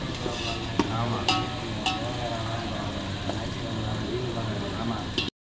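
Onions frying in oil in a pan for a crab curry, a steady close sizzle under the clatter of a spoon stirring and occasional sharp scraping clinks against the metal.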